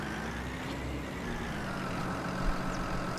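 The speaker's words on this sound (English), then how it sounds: "this is our new case tractor." An older Case 1455 XL tractor idles in Farming Simulator 19, a steady low diesel rumble with a faint hum above it, continuous and even throughout, with no one speaking.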